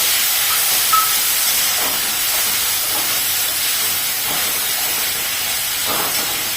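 Chopped tomato hits hot oil with onion in a pan, giving a steady, bright hissing sizzle that holds evenly throughout without talk.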